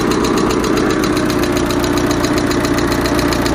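A Peugeot 206 engine with an exhaust leak runs close and loud, a steady rhythmic idle with fast ticking pulses and a rough, chuffing vibration throughout.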